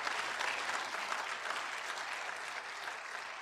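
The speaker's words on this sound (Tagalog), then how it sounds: "Lakasan niyo yung palakpak" Steady, dense applause from a church congregation during a Tagalog sermon, loud and continuous for the whole stretch with no voices on top.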